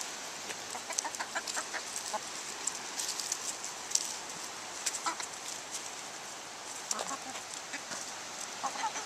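Backyard chickens clucking around a coop, a few scattered soft clucks and squawks over a hissy, rain-like background, moderately close and fairly quiet, with no one talking.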